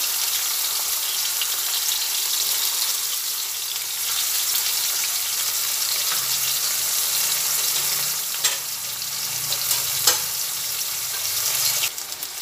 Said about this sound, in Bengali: এই পেঁয়াজ আর রসুন দুটো একসঙ্গে ভাজা হোক।